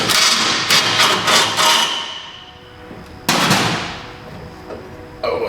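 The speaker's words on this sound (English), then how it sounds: "when those come out, this box is going to drop down" A power steering gearbox on a 2006 Dodge Ram 3500 breaking loose from the truck frame: sharp metallic impacts and clattering bangs, then a heavy clunk with a ringing decay, close and loud.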